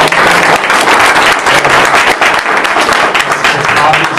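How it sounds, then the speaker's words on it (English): Audience applause for a panel at a talk on mental health crisis services, a steady dense wash of many hands clapping, loud and close, with a voice faintly present beneath it. "maybe a round of applause"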